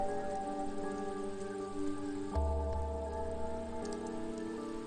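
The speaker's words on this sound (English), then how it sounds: "the only sound in the alley was the sound of the rain" Steady rain falls in an alley scene from the video game Chaos;Child, a constant wash of drops heard alone over a sustained tonal music bed, with a deeper low hum entering halfway through.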